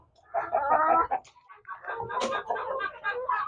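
Rhode Island chickens and young pullets cluck and chatter at feeding time on a farm, a busy overlapping flock sound close by with someone talking over it.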